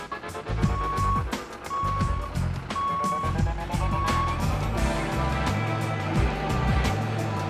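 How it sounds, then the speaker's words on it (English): Beeping from a laser transit receiver used while digging to grade for a pool, short tonal beeps repeating at intervals over loud excavator engine rumble and clanking. "this is where we're digging until our laser transit makes our handy dandy beeper beep"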